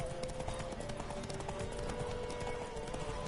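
Horses galloping in a race in The Witcher 3 video game, a steady stream of rapid hoofbeats over continuous ambient game noise.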